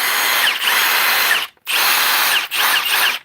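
A Milwaukee M18 brushless 3-mode impact driver (2851) spins at speed 3, a loud, close, steady whine in three long runs separated by short pauses, with no voices.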